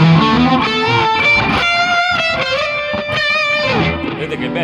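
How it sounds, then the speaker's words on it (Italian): Electric guitar played through a Boss DS-1 distortion pedal with the tone knob rolled back and delay added, giving a sustained, darker lead line with echoing repeats, loud and alone. "vi faccio sentire, chiudendo quindi il tono, un po' di delay e come diventa più moderno anche il suono"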